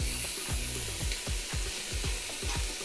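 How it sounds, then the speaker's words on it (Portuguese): Garlic, ginger, celery, onion, leek and carrot sauté in a pan with a constant close sizzle, broken by a quick, regular series of stirring scrapes. "Meus legumes já estão refogados, meus aromáticos."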